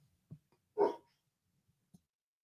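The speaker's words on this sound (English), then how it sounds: "just need to get my dog to shut up" A dog gives a single sharp bark, close and fairly loud, with a few soft thumps and small sounds scattered before and after in an otherwise quiet room.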